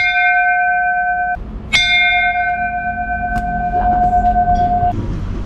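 An antique ship's bell from the SS Verbena rings out loud and close, with a single clear struck tone that hangs in a long sustained ring, then a second strike that rings on for several seconds before cutting off.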